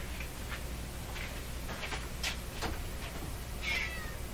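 A cat meows outdoors, several short, fairly faint calls scattered over a steady background hum, the clearest cry near the end.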